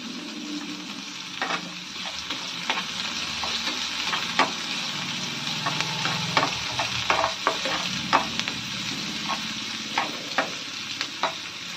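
Finely chopped onions hit hot oil in a pan for a fenugreek-leaf and tomato curry, crackling and sizzling steadily up close while a spoon stirs with repeated sharp scrapes and clicks.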